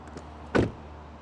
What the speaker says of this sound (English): let's close the door and find out